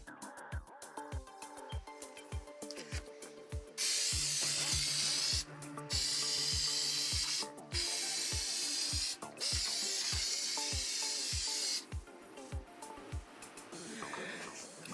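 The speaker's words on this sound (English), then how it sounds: "you can also use a spray adhesive, which I'm going to show you a little snip right now, so you should be about to see me just spray it on" Spray adhesive hisses from an aerosol can in four or five sustained bursts of a few seconds each, close and loud, over a steady background of regular rhythmic ticking.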